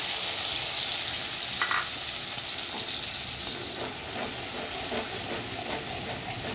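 Poppy seed paste mixed with turmeric frying in a pan, giving a continuous soft sizzle and hiss with occasional stirring clicks, close and unaccompanied by talk.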